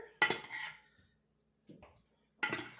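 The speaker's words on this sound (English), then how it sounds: "So I'm just going to kind of mix all that together." Cooked cauliflower being mixed with melted cheeses in a dish, heard as two sharp utensil clinks against the dish separated by a soft scraping, with quiet gaps between them.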